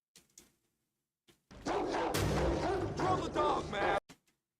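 A dog barks in a scene from the sci-fi TV series Alien Earth, a loud burst of barking mixed with heavy broadband noise and rumble lasting a few seconds, with brief quieter sounds before and after.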